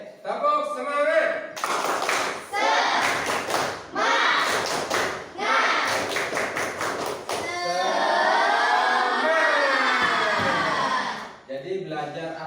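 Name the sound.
class doing a rhythmic spirit clap (tepuk semangat)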